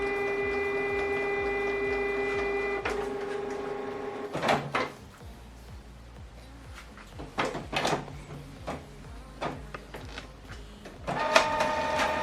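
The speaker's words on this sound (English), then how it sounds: "And this document now is going to print from." A Canon MG3600 inkjet printer runs a print job: a steady mechanical whir with tones for about three seconds, then irregular clunks and feed knocks, and a final burst of rollers and motor near the end, all without talk.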